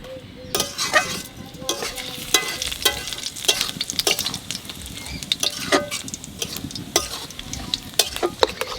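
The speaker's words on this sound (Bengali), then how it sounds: "তেল গরম হয়ে গেছে, এখন জিরে আর কালো জিরেটা দিয়ে দেবো" Cumin and nigella seeds hit hot oil in a home kitchen, giving a steady crackling sizzle with sharp pops and occasional clinks of a stirring spoon against the pan, with no talk.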